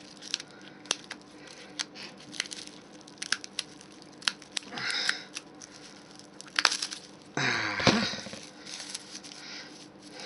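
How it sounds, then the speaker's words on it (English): Raffia being snipped into smaller sections with scissors, a scattered series of quick close cuts with a couple of longer rustling crunches of the dry fibre, no talking. "I'm going to cut some of this raffia down and use it in smaller"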